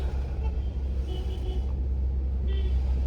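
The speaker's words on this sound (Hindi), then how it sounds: "ये देखिए रोडवेज भी बसेस चल गई हैं दोबारा से" State roadways buses and other vehicles run in heavy mountain traffic near Manali, making a loud, continuous engine rumble and road noise with occasional higher mechanical whines, close by and steady.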